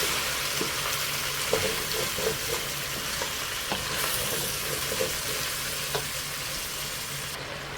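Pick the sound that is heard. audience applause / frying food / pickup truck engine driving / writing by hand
frying food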